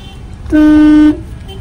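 A single loud, steady car horn blast lasting about half a second rises over low traffic rumble and then cuts off cleanly.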